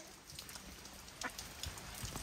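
Steady rain hisses and patters close by, with scattered heavier drops tapping on a surface.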